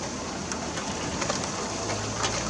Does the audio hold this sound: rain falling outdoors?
yes